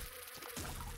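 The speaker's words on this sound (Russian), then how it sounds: "ну мухи меня не беспокоят, правильно" Flies buzz in The Binding of Isaac: Repentance, a short, faint, steady insect drone with a slight wavering whine and no voices.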